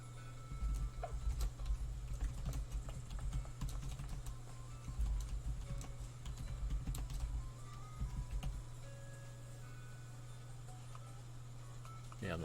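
Rapid typing on a computer keyboard, close and fairly quiet, with irregular clusters of key clicks over a steady low hum, tapering off and falling silent in the last few seconds.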